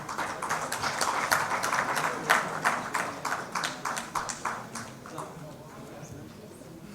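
Scattered applause at an awareness conference on heart care as an honoree steps forward: a handful of distinct, fairly close claps in an uneven rhythm, thinning out toward the end.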